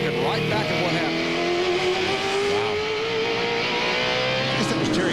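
Mopar Dodge race truck engine heard from the on-board position during a 2000 NASCAR Craftsman Truck Series race, a steady loud roar with rising and falling pitch, tire squeal and a voice talking over it.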